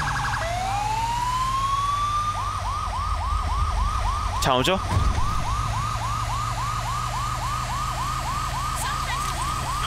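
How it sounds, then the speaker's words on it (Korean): Fire truck siren in the video game GTA V, a rising wail that settles into a steady, fast-cycling yelp running loud through the whole stretch over a low engine rumble, with a brief burst of another sound midway and a short spoken line. "길을 비키시오. 소방차입니다."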